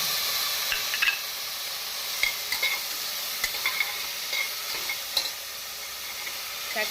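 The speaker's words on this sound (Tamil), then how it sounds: "இப்பொழுது நறுக்கிய தக்காளி பழத்தை போட்டுவிடலாம்" Chopped tomatoes frying in oil with onion and ginger-garlic paste in a pressure cooker for white vegetable kurma, a continuous hissing sizzle punctuated by repeated scraping stirs of a spoon, moderately quiet, no voices.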